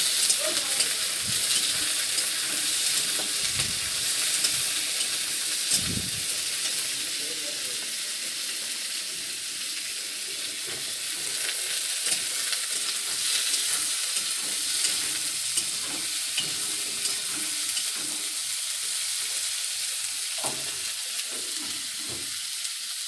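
Figs fry in a pan with a dense, continuous sizzle close by, broken by frequent stirring scrapes and clacks of a spatula throughout.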